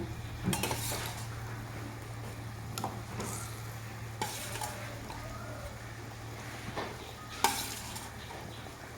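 Cut pieces of boiled egg are dropped into a boiling curry broth in a pot with potatoes, giving soft bubbling and stirring scrapes with a few sharper clinks, fairly quiet and steady.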